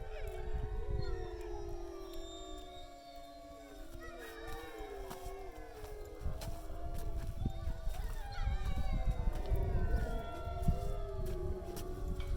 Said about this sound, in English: Well, there's a nice howl.